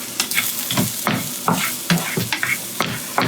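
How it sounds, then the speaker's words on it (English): Carrots and shallots are stir-fried for beef fried rice, with a steady close sizzle punctuated by repeated rhythmic scrapes and tosses of a utensil in the pan. "Add carrots and shallots."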